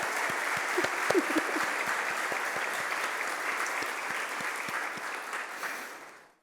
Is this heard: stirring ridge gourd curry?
no